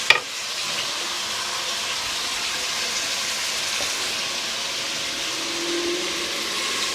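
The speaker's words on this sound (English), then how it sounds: "We'll get this all browned up. about medium-high heat." Beef browning in a pot over medium-high heat for smoked brisket chili, a steady close sizzle that holds even and loud for the whole stretch after a brief clink at the start.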